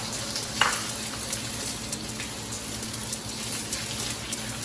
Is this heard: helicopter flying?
no